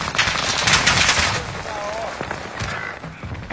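Gunfire in an online battle-royale shooter game, a rapid burst of shots filling the first second and a half, then scattered quieter reports, with voices talking over the action.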